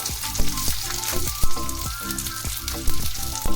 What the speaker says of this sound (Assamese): এইবোৰ অলপ সময় এতিয়া ভাজিব লাগিব